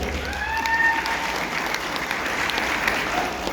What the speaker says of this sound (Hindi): मैं सबों के लिए एक बार चाहूंगा जोरदार ताली हो जाए